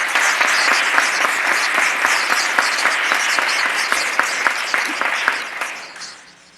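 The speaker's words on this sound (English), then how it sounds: "Let's give them a round of applause" A crowd claps loudly and steadily at an official event in Western New York, with dense, sustained applause that fades out at the end.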